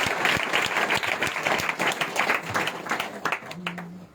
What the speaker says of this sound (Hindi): एक बार जोर से ताली बजाकर स्वागत करेंगे